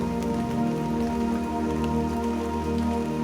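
Steady rain pattering on a surface, a continuous even hiss with dense scattered drops and a low tonal hum running underneath, no voices.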